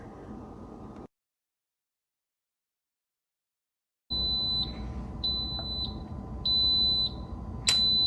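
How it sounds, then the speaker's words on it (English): An Instant Pot timer beeps when homemade yogurt finishes after 7.5 hours, a steady electronic tone sounding in repeated short bursts over a room background with some noise, after a stretch of silence. "my timer is just going off"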